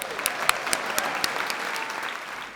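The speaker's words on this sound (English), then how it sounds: "Let's give another round of applause for Mia" An audience gives a round of applause, with crisp individual claps popping out of a steady wash of clapping that gradually thins.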